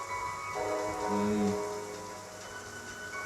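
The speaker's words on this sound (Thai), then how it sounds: "อ่าฝนตก" Steady rain pours down across a video game scene, a continuous broadband hiss of falling drops with tonal game music running underneath it throughout.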